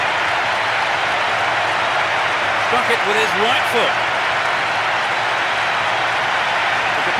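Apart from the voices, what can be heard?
crowd cheering goal in Pro Evolution Soccer 6 video game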